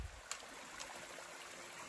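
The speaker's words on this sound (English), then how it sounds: "A little water crossing. And it almost looks like a little waterfall going down." A small stream tumbling like a little waterfall at a water crossing on a mountain hiking trail, heard as a steady faint trickle and rush with no voices.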